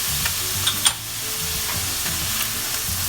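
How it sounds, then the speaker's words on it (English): Chicken sisig with vinegar and ginger sizzles in a pan over medium-high heat while it is stirred, a close, steady frying hiss broken by a few light scrapes and clicks of the utensil, with no voices. "We'll give this a nice little stir, still on medium-high."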